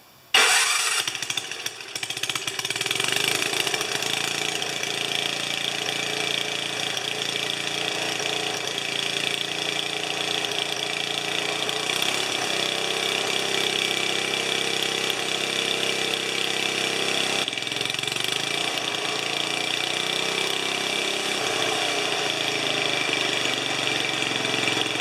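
A 30-year-old Ariens 4HP snowblower engine with a converted carburetor, set on choke and three-quarter throttle, catches on the first pull and then idles in a steady, loud, buzzing drone that runs on without a break.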